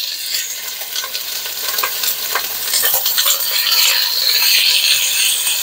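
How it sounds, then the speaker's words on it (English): Chicken thighs and drumsticks searing skin side down in a pan, a loud, close, steady sizzle and spatter that swells slightly as it goes on; no talking. "I've got a mix of thighs and drumsticks. We're going to do it skin side down."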